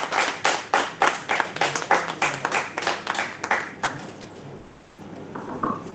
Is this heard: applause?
yes